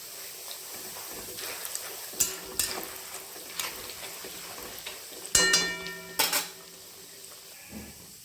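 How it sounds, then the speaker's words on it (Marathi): Dal frying in oil for a puffed rice chivda: a low, faint sizzle under scattered clinks and scrapes of a spoon against the pan. "डाळ टाकत आहे तेल टाकत आहे"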